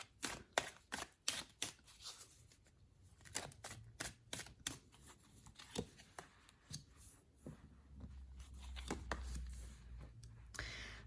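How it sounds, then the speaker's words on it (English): A deck of tarot cards being shuffled by hand, producing a quiet, close series of crisp riffling snaps and flicks in irregular bursts, with a low rumble creeping in toward the end. "let's give the cards a good shuffle"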